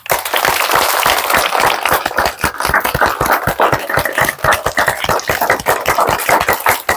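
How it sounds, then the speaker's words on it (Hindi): A group at a school prayer assembly claps hands loudly and fast in a steady, driving rhythm, the sharp claps close and continuous for several seconds with no talking. "ताली बजाना है जोर से।"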